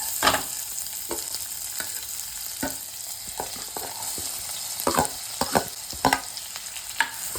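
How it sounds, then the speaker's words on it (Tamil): Onions fry in ghee with cumin for paneer bhurji, a quiet continuous sizzle punctuated by sharp, irregular clicks and scrapes of a spoon stirring the pan, with no talking. "இப்போ வெங்காயம் போடுறேன்."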